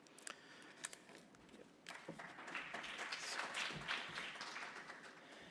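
Audience at a high-level East African Community and SADC conference breaks into applause after a few scattered early claps, swelling into a fuller round that continues to the end.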